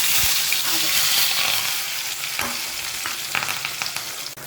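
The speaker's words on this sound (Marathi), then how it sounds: "मी घेतलेला आहे कांदा टोमॅटो आणि कढीपत्ता तो आता आपण तेलामध्ये टाकणार" Onion, tomato and curry leaves frying in hot oil for an okra dish give a loud, steady sizzle, with a few sharp clatters from stirring.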